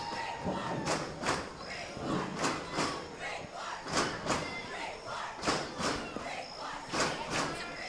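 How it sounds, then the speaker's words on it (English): A high school football crowd at Freeport vs Oceanside roars and chants in rhythmic bursts, with thumping stomps or drum hits pulsing roughly every second, heard from a distance across the field. "Freeport crowd in front of us now gets loud, imploring their troops on 1st and 10 from the 29"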